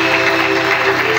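A church congregation applauding to acclaim the Lord at a Bible seminar, a steady dense clapping that holds loud and even throughout, with no voices over it.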